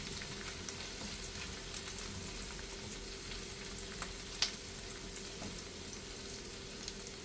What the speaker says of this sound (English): So you fry it until the onions get a little translucent.